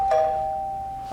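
A single doorbell chime rings out near and clear in an indoor stage-play setting, one sustained tone that slowly fades with nobody talking over it.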